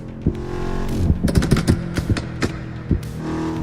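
Lamborghini SUV engine in a driving video game, steady exhaust drone broken by a series of sharp crackling exhaust pops, several in quick clusters and a couple spaced apart, loud and close.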